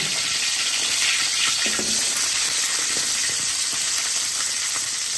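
Black pepper frying in hot coconut oil, a steady close sizzle and hiss with faint crackles that continues throughout without a break.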